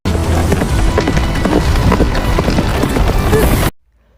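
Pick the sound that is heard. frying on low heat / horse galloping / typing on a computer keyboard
horse galloping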